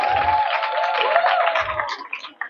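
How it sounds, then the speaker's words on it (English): Audience applause at a school ceremony opening an expanded primary health care centre at a girls' college in Benin City, a steady close patter of clapping with a faint tonal whine, thinning toward the end. "A big round of applause for him."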